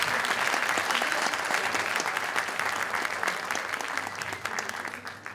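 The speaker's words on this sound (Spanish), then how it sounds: "Fuerte el aplauso a Quetzal, banda." An audience applauds comedian Quetzal at a Spanish-language comedy roast show, a dense, steady burst of clapping that runs for several seconds and fades slightly at the end.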